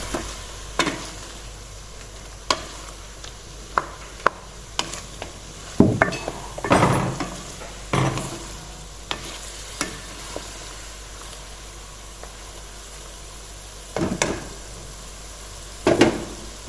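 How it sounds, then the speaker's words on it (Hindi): Ginger garlic paste sizzles steadily in a hot wok while a utensil scrapes and clinks against the metal in irregular bursts, fairly close and moderately quiet. "लहसुन शामिल करके इसको हमने ना बहुत अच्छे से भूनना है।"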